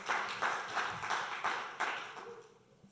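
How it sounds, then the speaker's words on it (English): Small group of people clapping for event sponsors at a weekly gathering, a light scattered round of applause close by that tapers off after a couple of seconds. "So let's give them a round of applause."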